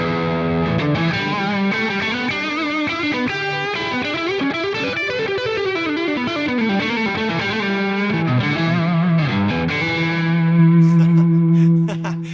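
A distorted Gibson Les Paul electric guitar on the neck pickup plays a flowing run of notes, thick and saturated, ending on a sustained low note with a few bright accents.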